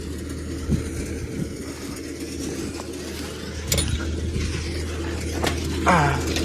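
Tractor-driven mulcher running in a field, with a steady engine drone and rattling mechanical clatter, occasional sharp knocks, and a voice speaking faintly over the machinery.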